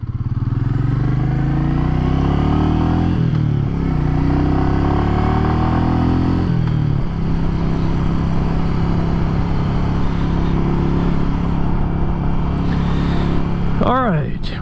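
A Royal Enfield Meteor 350 single-cylinder 350cc motorcycle hums along on a test ride with a steady, loud, close engine drone and shifting revs, ending with a brief rising whine.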